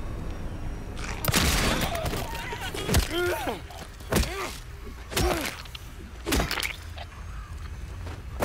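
Several sharp, booming gunshots in the Silent Hill 2 Remake crack out at irregular intervals over a busy, noisy game soundscape, with thuds and clatter between them.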